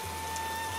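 Heavy rain on a monsoon day in a cartoon scene, an even, continuous hiss with steady tonal hum underneath, with no voices during the short stretch.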